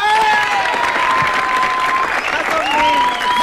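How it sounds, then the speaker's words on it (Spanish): An outdoor audience gives strong, dense applause for a pair of street comedians, close and loud throughout, with a few whistles and calls mixed into the clapping. "A ver, un aplauso para Juan Gabriel."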